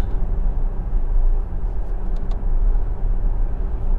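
Tesla cruising on Autopilot at around 70 km/h, a steady low road rumble and tyre drone from inside the cabin with a few faint ticks, continuous and even.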